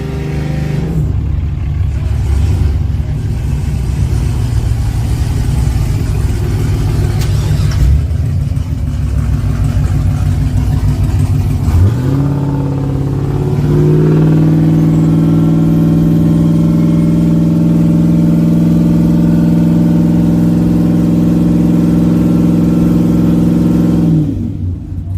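Turbocharged 5.3 V8 with a big single turbo revs hard at a drag strip, loud and close, holding high rpm with rising and falling pitch changes, dropping off abruptly near the end.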